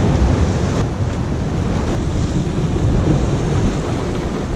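Strong wind blows across a rocky Atlantic shore on Lanzarote, buffeting the microphone in a loud continuous roar mixed with rushing surf.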